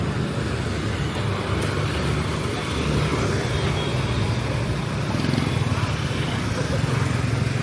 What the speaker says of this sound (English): the intensity of the traffic here is pretty amazing